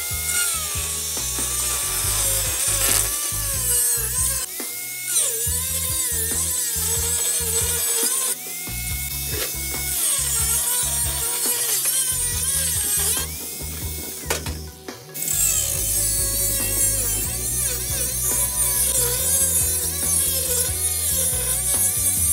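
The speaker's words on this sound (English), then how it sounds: "with our 5-inch wide strip cut, we're gonna completely remove the capped end of the barrel." A power tool cuts through the capped end of a metal burn barrel, grinding and rasping loudly in long strokes broken by brief pauses, with harsh metallic screeching throughout.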